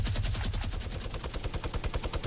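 Rapid, sustained bursts of minigun fire in Fortnite battle royale, a dense rattling stream of shots loud and close throughout with no talk.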